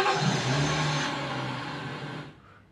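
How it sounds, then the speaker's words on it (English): A car engine cranks and revs up loudly with a steady rumbling roar, then cuts off abruptly near the end. "Car starting up."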